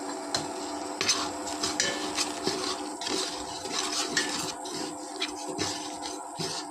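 Rice rava roasts with onion in a pan, a steady close scraping and rustling as a ladle stirs, with light metallic taps against the pan over a faint background sizzle, no voices.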